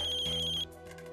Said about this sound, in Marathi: उचला तरी फोन